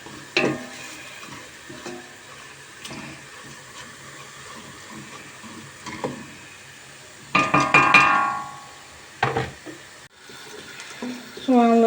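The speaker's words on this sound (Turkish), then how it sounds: "Şöyle avucumla ıspanağımı kavuruyorum" Spinach sautéed in a pot gives a soft sizzle and stirring noise with occasional clanks of the pot, under someone speaking Turkish throughout.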